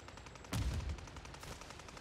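A single short burst of gunfire rings out in MW3 Zombies on Rebirth Island, fairly faint over a steady background of game noise.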